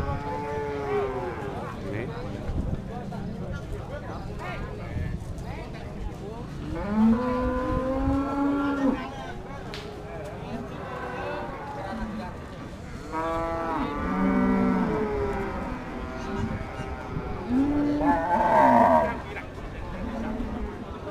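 Pegon cattle at a livestock market in Central Java, several drawn-out, close moos rising and falling at intervals over a steady background murmur of crowd noise.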